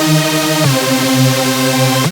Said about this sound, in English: So this is another lead from Massive X.